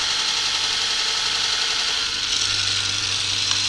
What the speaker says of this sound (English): turn it on, make sure everything's tight, line the skew up against the side of the profiler and just slide it onto the belt